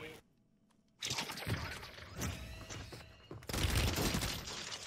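Rapid semi-automatic gunfire in the Warzone video game, a dense crackle of shots after a quiet second, loud and continuous with bursts of impact noise.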